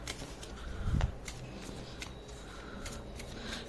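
Tarot-style cards being shuffled close by, soft quiet riffles and slaps with a brief thump near the start, no talking.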